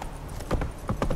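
Horse hooves clip-clop on the ground in The Witcher 3 video game, a quick uneven run of several close, moderately loud hoof strikes over faint background ambience.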